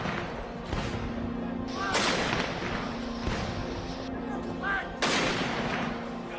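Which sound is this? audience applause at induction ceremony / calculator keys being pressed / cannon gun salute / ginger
cannon gun salute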